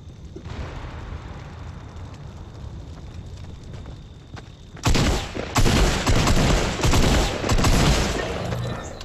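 Fortnite gunfire erupts midway as a loud, dense burst of rapid shots that keeps going to the end, after a quieter stretch of low game ambience with faint scattered pops.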